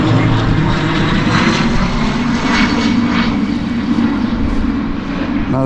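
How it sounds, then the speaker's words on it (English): A propeller airplane drones overhead above a forest park arboretum, a steady, fairly loud engine rumble that holds throughout and eases slightly near the end. "there we can hear some plane going over"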